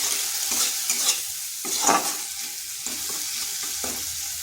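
Thick spice paste (masala) being stirred and fried in a pan for a vegetarian potato and lentil fritter dish, with steady sizzling and repeated scraping strokes of a spoon, close and moderately loud, no talking.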